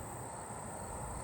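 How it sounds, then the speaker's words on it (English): Agile meadow katydids call outdoors, a faint continuous high-pitched shimmering trill running steadily under soft background noise for a brief moment. "it sounds like there's some agile meadow katydids that's nearby"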